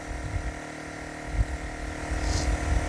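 A Champion 2500W dual-fuel generator straining under overload, its engine droning in a steady, close hum with a strong low throb that wavers slightly as the RPM sags, and no voices.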